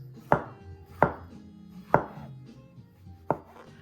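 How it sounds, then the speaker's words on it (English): A knife slices mushrooms on a cutting board after the stems are cut off, giving four sharp, separate chops spaced unevenly in quiet surroundings, with no talking. "I'm going to cut off the stems, and I'm just going to cut these into nice slices"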